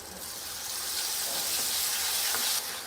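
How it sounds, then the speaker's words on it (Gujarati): Yogurt is stirred quickly into a sizzling onion and tomato gravy for a Kathiyawadi sabzi, giving a steady, close hiss of frying throughout with faint stirring, and no talking. "દહીં ઉમેરી અને ઝડપથી મિક્સ કરી દેવાનું જેથી દહીં ફાટે નહીં"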